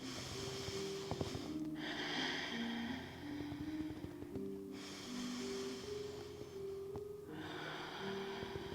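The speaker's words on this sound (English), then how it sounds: "Take 3 deep breaths." Deep breathing during a yoga hip stretch at home, three long slow nasal breaths with audible airy inhales and exhales, close and quiet over a faint background hum.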